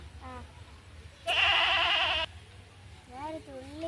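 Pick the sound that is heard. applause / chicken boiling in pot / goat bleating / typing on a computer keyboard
goat bleating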